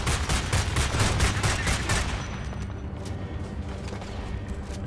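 Rapid automatic gunfire rattles in Homefront: The Revolution, a dense burst of close shots for about two seconds, then scattered fainter shots and a steady background din of combat, with no talking.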